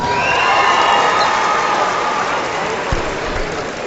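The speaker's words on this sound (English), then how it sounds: "Please give them a big round of applause." A gym crowd at a Lafayette vs Tanner basketball game claps and cheers for school administrators. The noise is a dense, even roar of clapping and shouting with no clear announcer voice, fading gradually toward the end.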